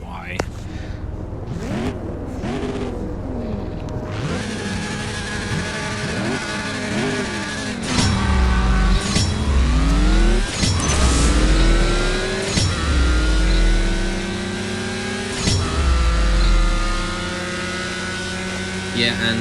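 A Nissan GTR revving in the racing game CSR Racing 2, its engine rising in repeated sweeping pitch climbs that grow louder and screaming through gear shifts, with someone talking over it throughout.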